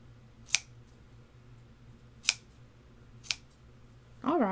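Scissors snip three times at a yarn pom pom, sharp isolated clicks spaced about a second apart over a quiet background, followed at the end by a voice starting to speak.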